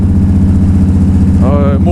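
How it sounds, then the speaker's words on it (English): A repaired engine idles with an even, low rhythmic firing pulse, steady and close, while a voice briefly comes in over it near the end. "it actually seems like the firing of the engine, the dum dum dum dum dum dum dum dum"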